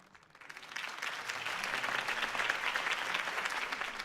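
Crowd applause in the Batman Telltale Series video game, a steady faint wash of clapping that swells in after a moment and holds without pause.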